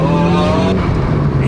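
A Mitsubishi Evo 7 engine revs hard under acceleration, loud and close, its droning tone rising in pitch over a short burst.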